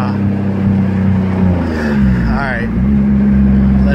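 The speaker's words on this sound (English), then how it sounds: "See, it's already building boost and it got all rich." Turbocharged VQ35 engine revving and building boost in a car on a public road, a loud steady drone with a rising whistle-like sweep near the middle, while someone talks over it.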